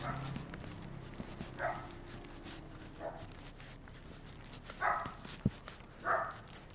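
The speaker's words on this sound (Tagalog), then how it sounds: "May aso eh." Dog barking at a house gate, several short bursts spaced apart, moderately distant and fairly faint over a quiet outdoor background.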